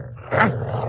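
A dog growls for the Georgia Bulldogs mascot, a short low rumbling snarl swelling in the middle and holding steady, close and fairly loud with no talking over it.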